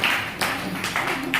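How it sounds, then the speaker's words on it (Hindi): A church congregation claps hands in praise to God, giving a few loud rhythmic bursts of clapping over a faint background voice. "ताली बजा के परमेश्वर को धन्यवाद।"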